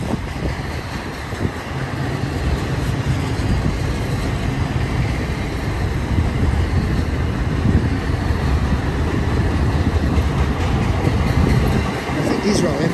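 A BNSF intermodal freight train rolls past at Blue Cut in Cajon Pass, a steady broadband rumble and wheel noise that holds throughout with some wind buffeting.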